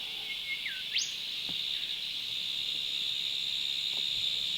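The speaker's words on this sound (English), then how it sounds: "can hear the cicadas in the background" A steady high buzzing drone of cicadas fills the background on the North Coast of New South Wales, with a few brief bird chirps early on and some faint low bumps.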